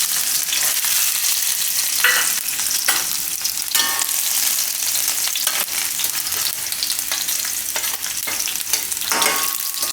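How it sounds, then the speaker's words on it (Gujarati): Garlic pieces fry in hot oil on a low flame, producing a loud, continuous crackling sizzle with occasional spoon stirs and spatters throughout. "લસણ એમાં નાખી દઉં બધું."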